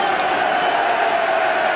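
A football stadium crowd barracking a player at Southampton v Arsenal in 1993/94, heard as a loud, sustained roar of jeers and shouting.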